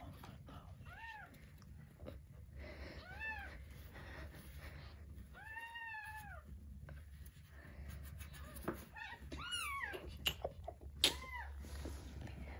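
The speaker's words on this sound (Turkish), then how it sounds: "Niye böyle miyav miyav deyip duruyorlar? Siz de bebekken ağlıyordunuz. Onlar da ağlıyor işte." Young kittens give repeated thin, high meows in short bursts, some close and some overlapping, over quiet background noise.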